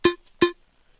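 A bright electronic synth shot from an electro production in FL Studio plays twice, two short punchy tonal hits with sharp attacks and quick decays, separated by a brief silence.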